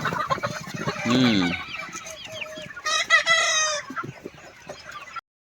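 Kaveri chickens on a 200-by-40 poultry farm cluck loudly and close by, with a rooster crowing midway through and more clucking after it. No one speaks.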